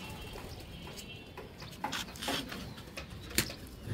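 Young racing pigeon chicks give faint, soft coos at intervals amid light rustling and shuffling close by, with no voices.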